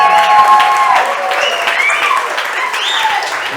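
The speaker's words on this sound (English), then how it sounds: "If you guys don't give me a real round of applause, I'm never doing this again." An audience at a talk gives a sustained round of applause, dense clapping that stays loud from start to finish, with some cheering mixed in.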